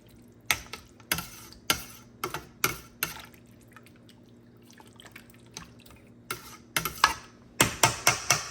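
A spoon scrapes and clinks around a pot of homemade vegetable beef soup, a dozen or so close, irregular knocks and swishes coming in bursts with a quiet pause in the middle and a steady low hum beneath.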